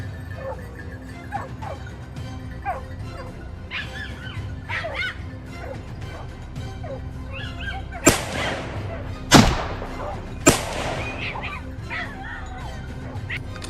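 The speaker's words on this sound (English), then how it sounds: "the hounds barked loudly from the bushes below" Hunting hounds bark and yip in the bushes below a mountain slope during a wild boar hunt, scattered barks at moderate distance, followed by three sharp gunshot cracks.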